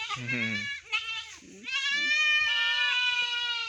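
A young F1 calf born to a dairy cow bleats loudly and close by for milk, a few long, strained cries with a short break between them, and no talk.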